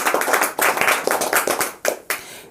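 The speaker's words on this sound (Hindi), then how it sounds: "बिल्कुल सही जवाब, ताली बजाइए।" Classroom students break into applause during a Sanskrit quiz, a burst of brisk, close hand claps in uneven clusters that briefly dips and restarts, with no voices over it.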